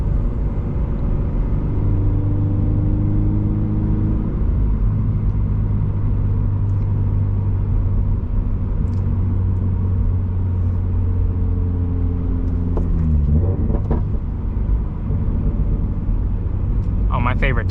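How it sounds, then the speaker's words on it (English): A second-generation Subaru BRZ's engine drones steadily from inside the cabin while driving, a low rumbling tone that shifts pitch with throttle changes, with the driver talking over it throughout. "drifting this car, really fun"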